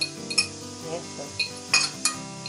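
Tomato chili sambal ingredients with salt, shrimp paste and sugar being ground in a stone mortar, giving scattered clinks and scrapes with soft pauses between strokes and nobody talking.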